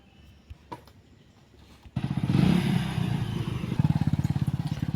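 A motorcycle starts up and pulls away on a village morning school run. Quiet clatter comes first, then the engine catches with a sudden loud, pulsing putter that stays steady and close.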